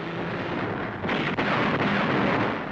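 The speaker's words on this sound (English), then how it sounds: "Self-propelled artillery increased the weight of our firepower" Self-propelled artillery firing during the Battle of Okinawa, a dense, roaring blast and rumble that swells midway and sustains loudly for a few seconds, with no voices.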